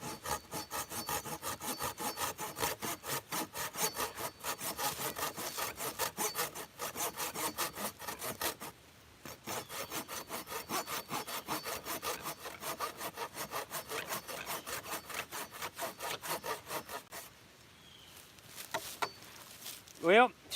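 A hand saw works through wood outdoors at a bushcraft shelter site, making steady rapid rasping strokes for about seventeen seconds with one brief pause, then stopping near the end.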